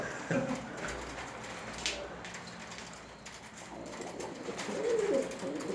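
A pigeon coos softly near the start and again near the end over a steady, hissy background of outdoor noise.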